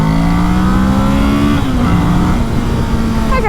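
Engine of a 2020 Kawasaki Ninja 650 motorcycle pulled hard under acceleration, its steady rising drone climbing in pitch, then dropping as a gear changes and climbing again; loud and close throughout, with no talk.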